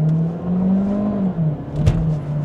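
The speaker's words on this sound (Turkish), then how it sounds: "Şimdi mesela şurada hızlı bir kalkış yapacağım. Bakalım benzin motoru devreye girecek mi?" A SEAT Leon FR 1.5 e-Hybrid plug-in hybrid launches hard as its petrol engine cuts in, giving a steady close engine drone that rises and dips, with a brief surge near the end.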